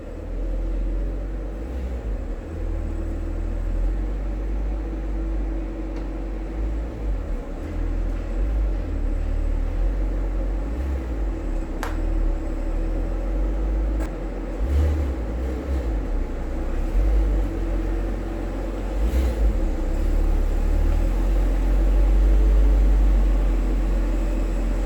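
A Porsche Boxster engine rumbles low and steady for a long stretch as the car drives into a garage, swelling louder near the end as it rolls closer.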